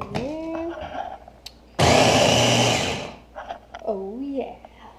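An electric chopper whirs loudly for about a second as it chops onions, a sudden steady motor buzz set between stretches of talking voices before and after.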